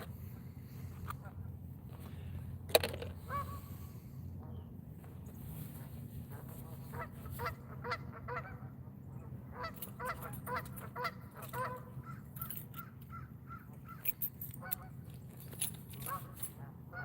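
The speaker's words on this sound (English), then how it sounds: "I'm sure you guys can't hear those geese at all." Geese honking outdoors near water while fishing, repeated nasal honks scattered through the whole stretch over a steady low rumble, some calls louder and nearer, with a voice talking intermittently.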